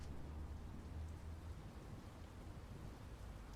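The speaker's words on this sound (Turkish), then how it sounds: "Anda yağmur yağıyor." Rain falls in the video game Garbage: Hobo Prophecy, a faint, steady patter with a low rumble underneath and no talk.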